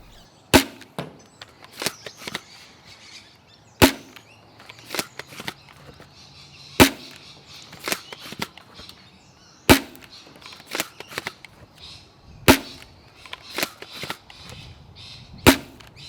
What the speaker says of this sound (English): With the upgraded pusher O-ring and the 14 kg spring, here's how mine's shooting over the chronograph.